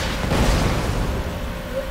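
A grenade blast in the video game Borderlands 2, a dense, broad rumbling burst that stays loud across the clip with heavy low-end boom and a long noisy tail.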